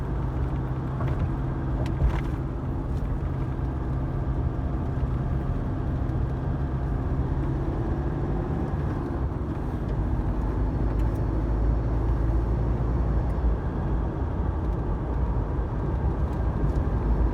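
A car drives down a remote outback road through low scrubland toward the Kennedy Ranges, giving a steady, continuous low road rumble and engine drone from inside the vehicle.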